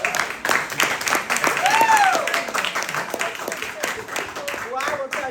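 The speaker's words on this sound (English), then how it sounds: "So, round of applause." Scattered claps from a small audience at a fireside chat with a mayor, sharp individual hand claps in an uneven rhythm with talking and voices mixed over them.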